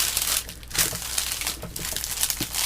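Wax paper is handled and crinkled up close during a gel plate printing attempt, giving a steady, bright crackling rustle with brief louder crunches and no voices.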